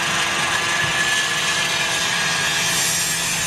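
British Airways airliner at Heathrow airport, a loud, steady jet engine roar with a broad hiss that holds evenly from start to finish.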